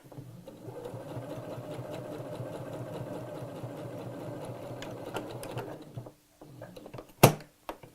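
A sewing machine stitches a letterbox zip in a steady, moderately loud run for about six seconds, then stops. A few faint clicks follow, and one sharp knock comes near the end.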